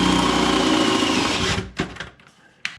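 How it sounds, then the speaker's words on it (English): A high-pitched power drill with a sharp 3/8 bit whines steadily through holes in a Foxbody Mustang torque box, then stops, followed by a few short clicks and knocks of handling. "get our 3/8 drill bit, nice sharp 3/8 drill bit, and try to drill through these holes here"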